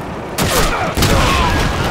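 A grenade blast in an old video game, a loud broadband burst at about 0.35 s followed by a second heavy boom near 0.95 s, each with a rumbling tail that fills the whole clip.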